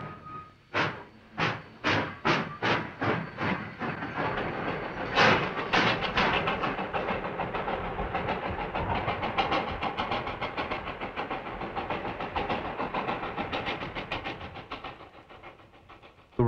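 A freight train running on rails: a string of rhythmic chuffing bursts opens, then settles into a continuous loud rumble and clatter of wheels that fades slightly near the end.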